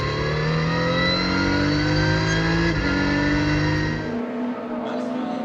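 On-board sound of a Lotus race car at Hockenheim in a Lotus Cup Europe race: a loud, steady engine drone with rising revs and a gear change, the note easing off near the end.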